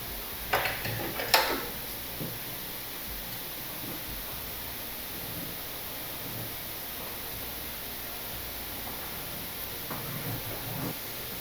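Scissors cut through petticoat fabric at the neck and shoulder during a sewing lesson: a quick cluster of close, crisp snips near the start and a few more toward the end, over a steady background hiss with no talking.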